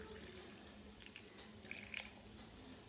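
Water runs steadily into a container at a moderate, close level for carrot orange juice, a continuous splashing trickle with small bright drips and no voices.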